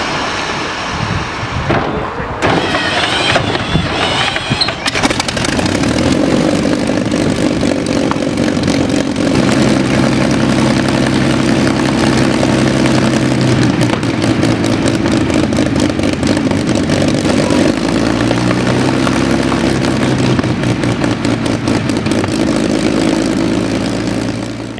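A 27-liter, 1,470-horsepower V12 aircraft engine roars loud and steady after a brief rough start, a sustained deep drone that holds for the rest of the run.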